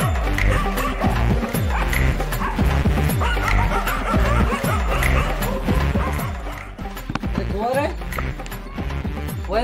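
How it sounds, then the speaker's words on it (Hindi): A dog barks repeatedly at close range in a busy, noisy scene, the barks mixed with people talking throughout. "कुत्ता है यार कुत्ता"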